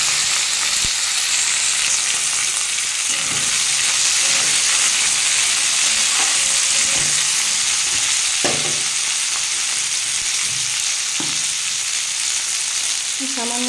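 Potatoes and flat beans fry in a hot pan of gourd-leaf charchari with a continuous loud sizzle and hiss, broken by occasional stirring knocks.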